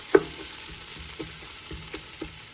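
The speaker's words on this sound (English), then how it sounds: "added the onions to the oil. And I'm going to let those cook" Onions fry in oil with a close, steady sizzle, broken by a few light clicks and taps of stirring, and no one speaking.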